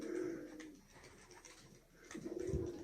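A blue pigeon coos in low, throaty bursts, one at the start and another near the end, fairly near and quiet, with faint rustling between.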